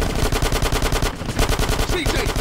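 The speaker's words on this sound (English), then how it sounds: "So you can shoot the guys that are hanging on the chopper." Rapid automatic gunfire in GTA San Andreas, aimed at men hanging from a helicopter at night, pounding in a tight, loud, sustained burst with only a brief stutter midway.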